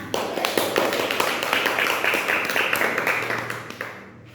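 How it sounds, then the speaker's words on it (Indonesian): Classroom of students clapping together, a dense, steady patter of many hands at close range that holds for several seconds before tapering off. "Tepuk tangan"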